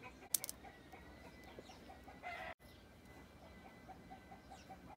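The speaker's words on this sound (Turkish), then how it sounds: "Tavuk kardeş." Chickens cluck faintly in the distance in a quiet outdoor setting, with a few scattered soft calls and one brief sharper squawk.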